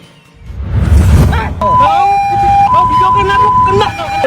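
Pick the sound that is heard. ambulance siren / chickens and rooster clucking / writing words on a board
ambulance siren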